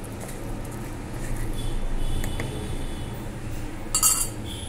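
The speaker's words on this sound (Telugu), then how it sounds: "బియ్యం పిండిని కొంచెం వాటర్ వేసి కలుపుకుంటూ, మీరు ఇంకా కొంచెం బియ్యం పిండి కావాలని యాడ్ చేసుకుంటూ మిక్స్ చేసుకోండి" Rice flour batter is mixed with water in a bowl, giving a steady, close scraping and stirring noise, with a brighter utensil clink against the bowl near the end.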